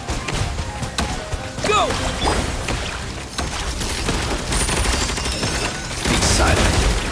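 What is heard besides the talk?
bombs exploding in the video game Genshin Impact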